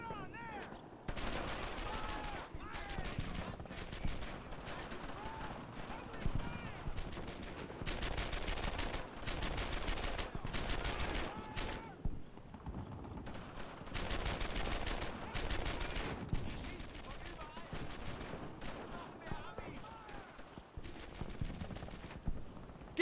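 Sustained gunfire in the World War II shooter Brothers in Arms: Earned in Blood, with dense bursts of rapid automatic shots and rattling volleys filling the whole stretch, loud and continuous with little pause.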